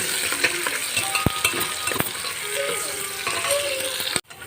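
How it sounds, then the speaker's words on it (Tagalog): Chopped onion frying in a hot pan for a Nepalese-style taro-leaf laing, a steady close sizzle with scraping stirs and a few sharp utensil knocks, ending in a sudden brief drop. "Nilagay ko na yung sibuyas. Lutuin lang natin saglit ng konti yung sibuyas."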